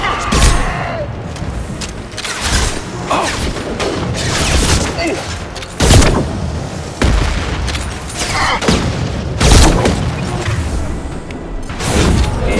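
Rifle gunfire in the Mass Effect 2 video game, loud booming shots spaced a second or two apart with heavy thuds and mechanical clanks between them, alongside combat chatter.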